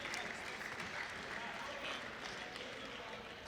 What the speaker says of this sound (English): He's getting the clap off the floor right now.